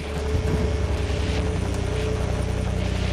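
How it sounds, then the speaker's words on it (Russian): A military helicopter lifts off from a helipad in the Splinter Cell: Blacklist video game, its rotor and engine a loud, steady, throbbing roar with no voices. "Прошу разрешения на взлет с вертолетной площадки Альфа-9."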